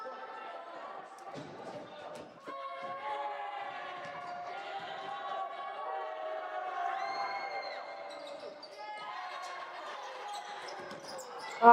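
Crowd noise fills a high school basketball gym, Boise City versus Hartley, during free throws: a steady, moderately loud murmur of voices and cheering with sustained tonal calls layered through it, running for the whole stretch.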